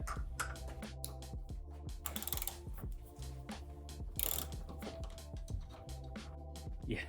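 Ratchet breaking free tight air suspension line fittings on a W220 Mercedes S-Class, a rapid run of clicking strokes with short pauses and sharp metallic snaps, close and fairly loud, no voices.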